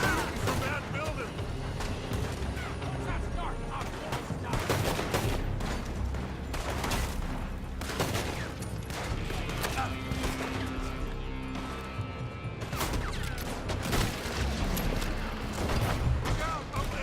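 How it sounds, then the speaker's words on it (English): Red Dead Redemption 2 gunfight with repeated shots and bursts over a dense, busy game mix, steady and loud throughout, with people talking over the action. "They're shooting from that building."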